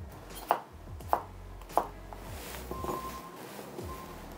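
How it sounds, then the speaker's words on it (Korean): A knife chops a potato finely on a board, giving three sharp, evenly spaced thuds followed by softer, quieter cuts, close and alone. "감자 한 개 사용하겠습니다. 짜그리니까 잘잘하게 썰어주면 됩니다."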